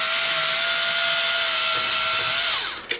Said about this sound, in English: I use a cordless driver of some sort.